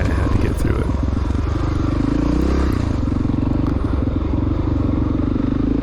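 A 1993 Honda XR600R dirt bike picks its way over rocky ground, its single-cylinder engine thumping loudly and steadily up close with a brief throttle swell midway, while rocks and gear clatter faintly underneath.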